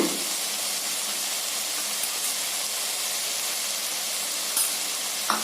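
Spinach poriyal stir-frying in a pan after the poriyal spice powder goes in, giving a steady, close sizzling hiss throughout with a few faint scrapes of stirring.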